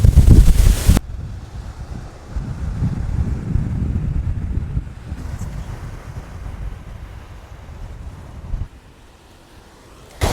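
Strong seashore wind in Vietnam buffets the microphone, a loud continuous low rumble with gusts that swell and ease, briefly dropping quieter near the end.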